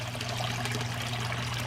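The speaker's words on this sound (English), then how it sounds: "This is kind of just the beneficial bacteria in this pump just cycling water constantly" A koi pond filter pump keeps water cycling, producing a steady, continuous trickling and splashing flow with a low hum beneath it, close and even throughout.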